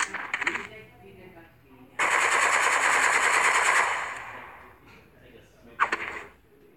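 Rifle gunfire in a heist-themed video game: short, rapid crackling bursts near the start and end, with a loud, sustained noisy stretch in between.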